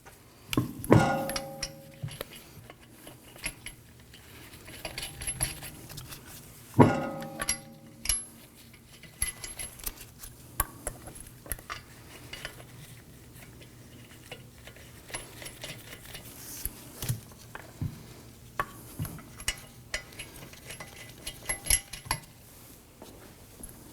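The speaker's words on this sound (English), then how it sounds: "let's go ahead and get all of our lug nuts started, and then we'll come on back and snug them down" Lug nuts are threaded by hand onto the wheel studs of a 2018-2024 Toyota Camry during rear wheel bearing and hub work: sparse, quiet metallic clicks and ticks with a few sharper knocks, close by in an otherwise quiet workshop.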